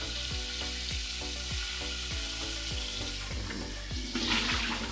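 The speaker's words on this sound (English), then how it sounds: "Fill up my pot with some water." Tap water runs steadily into a pot, a dense rushing splash with a faint rhythmic knocking underneath, close and continuous.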